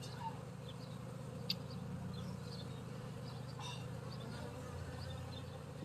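Honeybees buzz in a dense, steady drone while a beehive is opened for inspection, close and continuous with a few brief louder passes.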